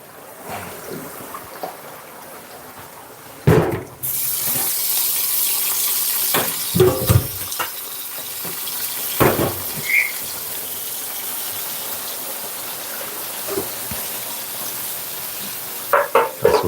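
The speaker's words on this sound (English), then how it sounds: "Finish our sauteing" Food sautéing and stirring in a pan during batch cooking for an event, a steady sizzle running throughout with occasional louder scrapes and clatters of utensils.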